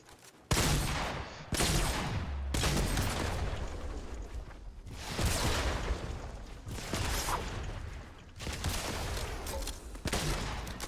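Rapid gunfire in Fortnite Battle Royale, dense bursts of shots and blasts in several long volleys with short breaks, loud and close throughout.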